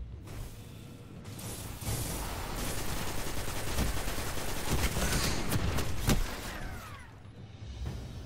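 Rapid bursts of automatic gunfire from a PvP video game, with the Trespasser among the weapons, rattle on and off. The shots are loud and dense through the middle, with whooshes, and fade at the end.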